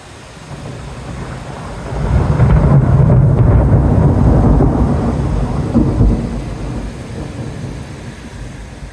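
A thunderstorm over Calheta, Madeira, during a barrage of about 1,200 lightning strikes in under an hour. Heavy thunder swells into a long, loud rumble over steady rain and wind, then slowly fades.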